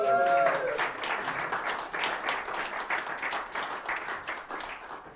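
A small audience at an album-release gig claps for the artist behind the record's artwork; a brief voice opens, then lively, fairly close applause with individual claps audible, tapering slightly toward the end.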